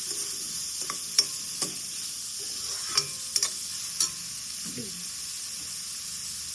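Sweet pumpkin frying gently in oil over a low flame, a soft steady sizzle with a few faint clicks of a spoon stirring in the pan, no voices.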